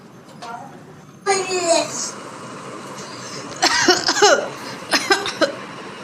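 Several short bursts of coughing from someone with a cold, fever and cough, close and clear, with a child-like voice speaking in between.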